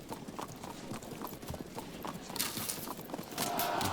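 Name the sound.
horse archers' hoofbeats, Field of Glory 2 video game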